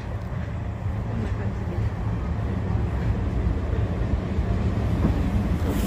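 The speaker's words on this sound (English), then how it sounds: "Here's our train." The Sagano Sightseeing Tram, a scenic tourist train, rolls in with a steady low rumble and broad mechanical noise that holds at moderate loudness throughout.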